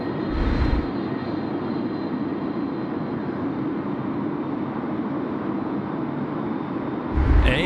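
An airliner passes Sydney Airport at night as a steady, loud engine roar that holds for several seconds, swelling slightly at the start and again near the end.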